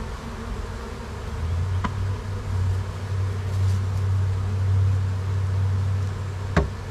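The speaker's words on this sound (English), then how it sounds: "Oh my gosh, look how many bees are in there." A dense swarm of honey bees hums continuously inside a swarm trap, a steady close drone with a couple of brief sharp clicks.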